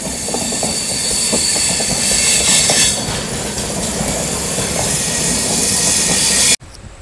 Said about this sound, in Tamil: இப்போது நீங்கள் பார்க்குற ட்ரெயின் திருநெல்வேலியிலேருந்து பிளாஸ்பூர் போகிறதுங்க